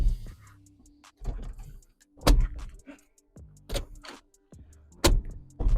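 Seat levers on Touran seats fitted in a Caddy van are pulled with a series of sharp mechanical clacks and rattling latch sounds, each a short loud burst with brief pauses between.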